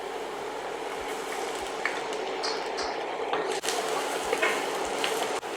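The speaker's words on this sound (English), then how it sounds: "When the onion is caramelized, we can add our garlic" Garlic fries with caramelized onion in a pan, a dense continuous sizzle with soft knocks and scrapes of a spoon stirring now and then.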